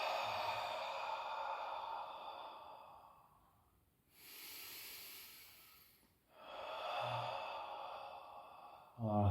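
Slow, audible exhales during a floor exercise, a breathy hiss that swells and fades in long drawn-out breaths, quiet and close, with pauses between them.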